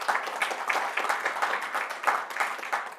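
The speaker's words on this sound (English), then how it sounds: "Feel free to clap." Audience applause at a rum tasting seminar on agricole rhum, a steady wash of many hands clapping with uneven bursts, moderately loud and continuous without speech.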